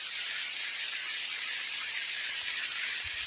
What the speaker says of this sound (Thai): เสียงฝนตกแบบนี้